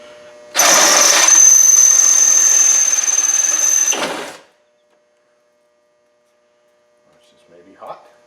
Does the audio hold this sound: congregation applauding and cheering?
no